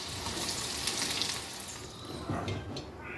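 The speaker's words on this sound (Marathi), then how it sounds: "तर आता चांगलं तेलामध्ये फ्राय करून घेणार आहोत आपण जे काही तयारी केलेली आहे मसाल्याची" Onion and masala frying in hot oil for vada pav, a steady close crackling sizzle with wet bubbling that holds throughout without talk.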